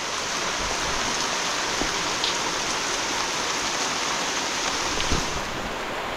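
Steady unseasonal rain falls in a village during rainy weather, an even, dense hiss with a few faint drips standing out, close and continuous with no talking.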